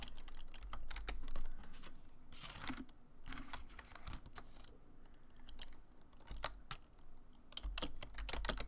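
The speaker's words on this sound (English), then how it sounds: "let me type this in real quick" Typing on a computer keyboard: quiet, irregular bursts of key clicks and taps close by, with short pauses between flurries and no speech.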